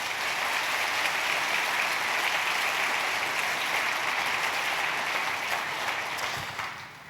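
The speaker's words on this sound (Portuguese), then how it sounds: "Você pode dar um aplauso ao nome do Senhor?" A church congregation applauds in sustained, dense clapping that holds steady for several seconds before tapering off at the end, with no speech over it.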